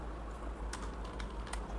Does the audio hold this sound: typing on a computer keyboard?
yes